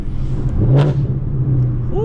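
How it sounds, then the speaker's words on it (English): A 2018 Ford Mustang GT with an MT82 manual gearbox downshifts, its engine holding a steady droning note with a brief rising burst of revs, while a voice briefly whoops over it. "A little downshift."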